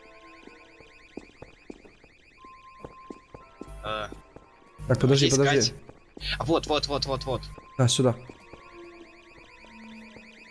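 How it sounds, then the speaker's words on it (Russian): In the video game Garry's Mod, a car alarm blares in loud, pulsing bursts that start and stop several times, while players talk over it and around it. "Сигнализация так прикольно работает."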